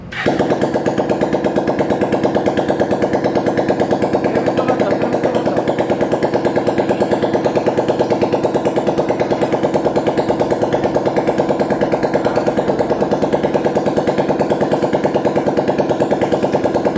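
An old Bajaj Pulsar motorcycle engine runs at a steady idle after a quick start, a loud, close, rapid even putter that continues unchanged on its own without any voices.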